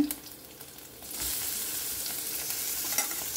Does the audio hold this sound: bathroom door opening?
no